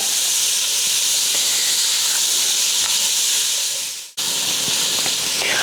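Onions and bacon sizzling in a pot for a Southern catfish stew, a steady, loud hiss that cuts out sharply for a moment and then resumes.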